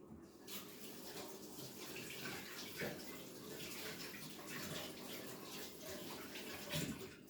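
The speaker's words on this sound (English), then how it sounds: "Let me wash my hands." Tap water runs steadily into a kitchen sink while hands are washed mid-way through making homemade biscuits, a continuous close splashing stream with a few brief louder splashes, no talking.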